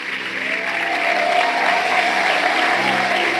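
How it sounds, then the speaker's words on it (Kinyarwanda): Audience applause at a Rwandan church or celebration event. Loud, dense clapping from a sizeable crowd runs continuously and fills the whole stretch. "Komera Imana amashyi."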